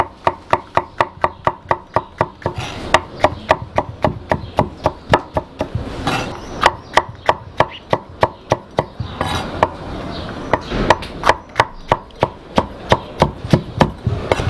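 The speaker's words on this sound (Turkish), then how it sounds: "Biberleri de direkt bu şekilde doğrayacağım." A knife chops peppers steadily on a cutting board, sharp regular strikes in a quick rhythm, up close and with no talking.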